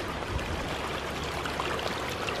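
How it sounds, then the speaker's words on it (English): Rainwater runs off in a steady rushing stream toward a road, a continuous close gurgling flow with no voices. "But look at this water just running off"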